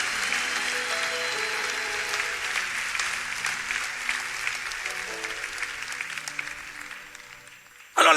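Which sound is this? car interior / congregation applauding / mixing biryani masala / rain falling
congregation applauding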